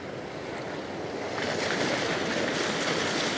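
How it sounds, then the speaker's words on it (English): Ocean waves break into white water on a coast in rough, unpredictable weather, a broad near roar of surf that swells slightly louder midway, mixed with wind. "what I really want now is a couple of nice waves, some white water."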